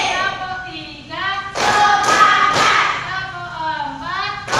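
A class of fifth-grade pupils claps in short bursts between stretches of a teacher's voice, the sharp slaps close and loud.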